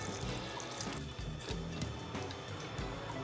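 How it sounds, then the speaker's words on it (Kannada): Water is poured into a cooking pot for a horsegram curry, a quiet splashing and trickling with small irregular knocks and clinks, fairly close and with no talking. "ಇತ್ತೊಂದಕ್ಕೆ ನೀರು ಪಾಡ್ದು"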